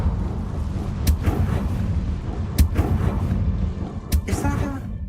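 Incendio fire spell cast in Hogwarts Legacy, a few sharp bursts of flame with a rumbling, roaring body, spaced out over a steady low game ambience, fairly loud and close.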